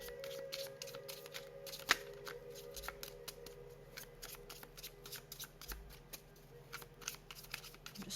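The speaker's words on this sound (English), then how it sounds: "I'm just shuffling them a quick second here before we get into this" Small tarot cards are shuffled by hand in a quiet room, giving a run of quick, soft riffling snaps with irregular rhythm and one sharper slap partway through.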